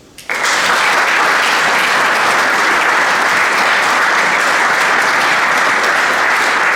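Audience applause fills a ceremonial academy celebrating the 45th anniversary of the Domžale athletics club, honouring its founders: a brief onset swells into loud, steady, sustained clapping from a large crowd.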